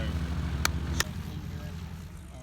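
A propeller airplane taxiing at a Cessna 170 STOL contest airfield, with a steady low engine drone throughout and two sharp clicks early on.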